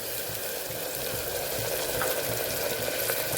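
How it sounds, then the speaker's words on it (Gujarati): Tomato puree sautés with browned onions in hot oil for a sev usal curry, giving a steady, loud, close sizzle and frying crackle throughout with no talking. "એમાં પણ તેલ છૂટું પડે ત્યાં સુધી આપણે એને સાતળવાનું છે"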